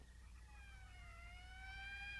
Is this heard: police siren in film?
yes